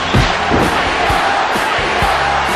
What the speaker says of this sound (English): There's capacity crowd picking up the chant